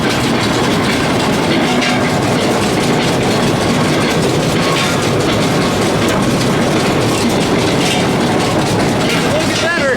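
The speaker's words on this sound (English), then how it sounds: "I'll start the baler and see if that's better." A hay baler running loud and close, a dense continuous mechanical clatter and rumble with rapid rhythmic knocking that holds steady the whole time.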